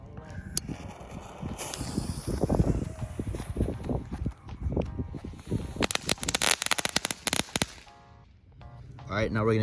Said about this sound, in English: we'll start off with the regular firecracker